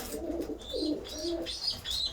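Pigeons including a sallabaş breed cooing inside a backyard coop, a few soft low coos overlapping with faint higher chirps, quiet and close.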